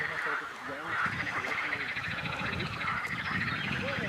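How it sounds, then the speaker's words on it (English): Ducks calling continuously at a distance, a dense chorus of honks and quacks layered over each other with steady outdoor background noise, at Rumšiškės Open Air Museum near Kaunas, Lithuania. "A hell of a lot of duck noise down there"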